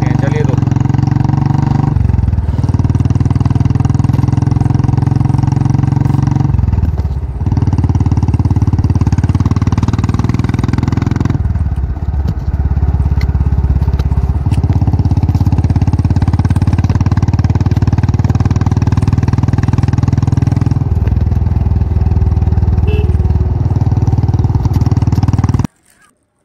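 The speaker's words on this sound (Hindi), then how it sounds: "सबसे पहले हम ड्राइव करते हैं ये रेड कलर का बुलेट मोटरसाइकिल" A red toy Bullet motorcycle runs with a steady buzzing motor hum for most of the stretch, broken by a few short pauses and ending in a sudden stop.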